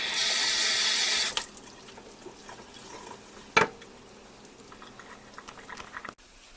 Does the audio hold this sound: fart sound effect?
no